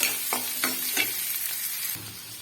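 Amaranth greens (mulai keerai) being stirred in a hot pan: a sizzling hiss broken by a few distinct scraping stir strokes, close by, with no talking.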